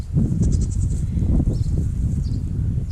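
Goats bleat over steady, dense farmyard background noise, with repeated nasal calls that are loud and close, and no talk is heard.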